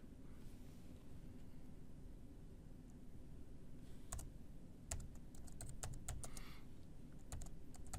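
Soft typing on a computer keyboard in a quiet room with a steady low hum, scattered keystroke clicks arriving in short bursts during the second half, no talking.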